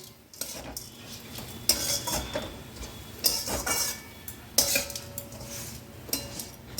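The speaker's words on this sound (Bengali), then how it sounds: "শাকটাকে নাড়িয়ে চাড়িয়ে এবার আমি অল্প সময়ের জন্য একটু ঢাকা দিয়ে রাখবো।" Amaranth greens are stirred in a metal pan with a utensil, giving sharp scraping clatters at intervals over a soft frying sizzle; no one talks.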